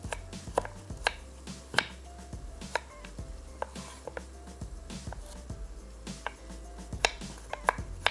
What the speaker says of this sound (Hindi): ले लेते हैं गाजर 2 अदद दरमियाने साइज़ की, और इसको छोटे क्यूब में काट लेंगे